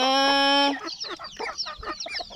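Rhode Island Red chickens cluck and chatter close by in a short burst, following a brief loud sustained tone at the start.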